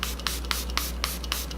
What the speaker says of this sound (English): I'm gonna put setting spray, which is my fave, the Milani Make It Last.